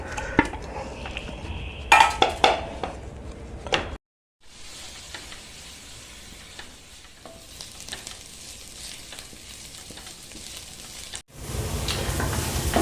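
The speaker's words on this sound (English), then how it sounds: "So first I'm going to brown the onions." Onions browning in a pan, a soft continuous sizzle with stirring and scraping, led in by sharp clinks of utensils and cookware, then a brief drop to silence before the frying resumes louder.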